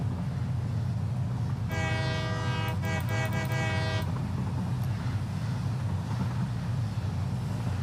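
A train in the video game Satisfactory idles with a low, constant rumble, then sounds a rich multi-tone horn for about two seconds in a few quick bursts before the drone continues alone.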